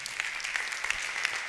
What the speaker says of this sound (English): Clap your hands, oh, you people.